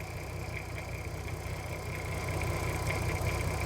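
A VW Golf R32 engine idles steadily during a carbon clean, a smooth low rumble with a faint mechanical ticking, holding constant and close with no one speaking.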